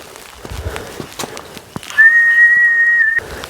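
A person whistles a single steady, sustained note close by for just over a second beside a mountain water spring in a Pahadi village, with faint outdoor background sounds before and after.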